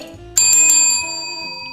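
A bright bicycle-bell-style notification chime rings out loud and clear, with a sharp ding and shimmering ring that fades over about a second, over a low background hum.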